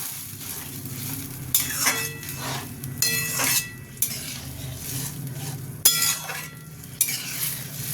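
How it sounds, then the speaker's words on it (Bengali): Mixed vegetables sizzle in a pan while a utensil stirs and scrapes, with a few sharp metallic clinks at irregular intervals. "এরপর আমি এটাকে ভালো মতো কষবো"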